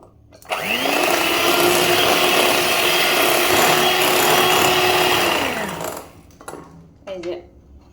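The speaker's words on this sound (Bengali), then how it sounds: "আমি এটাকে বিট করতে থাকবো।" An electric hand mixer beats eggs with sugar in a bowl, a loud steady whir that starts abruptly, holds for about five seconds, then winds down, followed by a few brief clinks.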